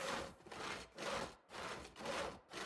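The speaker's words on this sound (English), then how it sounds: "We can saw one more log up." A log being sawn by hand in Project Zomboid, with steady back-and-forth rasping strokes, about five in a regular rhythm, close and clear with no talking.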